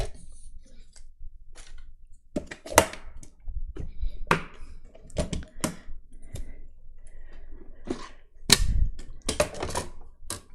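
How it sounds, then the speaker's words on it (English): Die cutting machine pressing out small paper eyeballs from cardstock: a string of sharp clicks, snaps and mechanical clacks at irregular intervals, close and fairly loud, with no talking. "taking out my die cutting machine, I'm going to cut out a bunch of little eyeballs"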